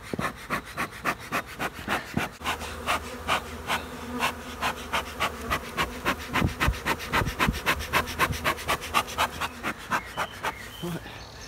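Honeybees hum around a beehive during an inspection, a faint steady buzz under a fast, regular series of rubbing or scraping strokes close by, with no clear talking.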